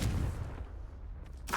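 A Confringo fire spell detonates in Hogwarts Legacy with a loud, booming blast that decays over about a second, followed by a brief crackling burst at the end.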